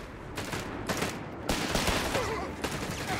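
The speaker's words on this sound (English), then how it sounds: "Taking heavy enemy fire here!" Heavy enemy gunfire from a Company of Heroes 3 Italian campaign battle, with dense overlapping rifle and machine-gun bursts cracking in repeated waves, loud and continuous.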